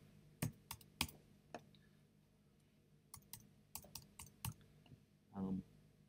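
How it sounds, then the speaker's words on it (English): Typing on a computer keyboard while writing code: scattered sharp key clicks, single and in short bursts, close and quiet, with a soft thump near the end. "So if I start typing background"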